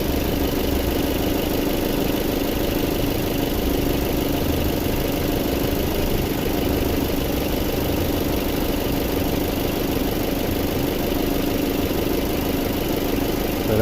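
A 2015 Jeep Cherokee 2.4 MultiAir engine idles steadily alongside a whooshing radiator cooling fan, producing a constant, even hum at close range with no breaks.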